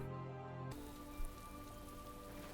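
Steady rain falls across a tree-covered map, Arinda, in the strategy game Star Wars: Empire at War, a dense continuous hiss with one brief louder thump partway through.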